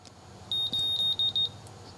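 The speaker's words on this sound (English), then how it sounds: "it just gave us a little beep, beep, beep, 1 kilohertz, and 2 kilohertz" A handheld optical power meter emits a rapid series of short, high electronic beeps grouped closely together, clear and fairly close over a quiet low background hum.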